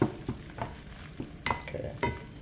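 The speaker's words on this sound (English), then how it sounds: "Now I'm gonna add my saltfish." Saltfish frying in a pan as it is stirred, with several distinct scraping stir strokes and clinks over a soft background sizzle, close and alone.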